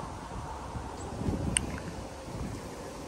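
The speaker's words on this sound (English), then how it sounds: "Okay, it's pretty windy out," Strong wind blowing through trees outdoors beside an RV, a steady broadband rush with gusts swelling midway and a brief faint tick, no talking.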